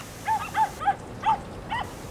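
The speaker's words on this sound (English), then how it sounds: "Bark, bark, bark, bark." Dogs barking on a beach in Yachats: five sharp, separate barks at an uneven pace, moderately loud and a little distant, over soft background noise with no talking.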